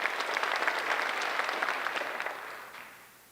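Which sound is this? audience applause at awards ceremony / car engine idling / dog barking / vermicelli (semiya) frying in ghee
audience applause at awards ceremony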